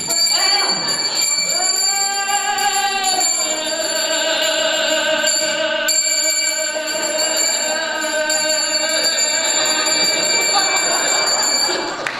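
Bright metallic hand bells ringing continuously and loudly, overlapping tones jangling for several seconds.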